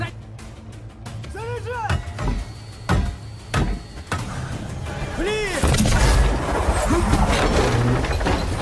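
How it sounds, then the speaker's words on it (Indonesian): Cannon fire from historical artillery during a fortress siege in Siberia: several deep booms and sharp blasts scattered through a noisy, dense battle soundscape, with a heavier rumbling section near the end. "Semua kaget ada dentuman meriam."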